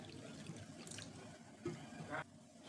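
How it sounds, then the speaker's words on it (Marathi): Plenty of water poured into mixed lentils set to soak for sundried dal wadis, a steady close trickle and splash with a couple of louder gushes, no talking. "तर आता यामध्ये भरपूर पाणी घालायचे."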